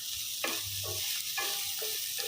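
Poha (rice flakes) frying in a pan for atukula upma, with onions, giving a steady close sizzle broken by several short scraping stirs of the spatula.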